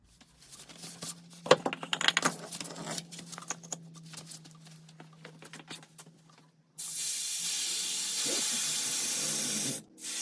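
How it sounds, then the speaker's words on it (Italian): A pneumatic air jack releasing under a Fiat 500L 1.4 16v in a workshop, a sudden loud, steady hiss of escaping air that holds for a few seconds after scattered clanks and handling noises, then cuts off. "vado a rimuovere il crick ed abbassare il crick ad aria per mettere il veicolo in piano"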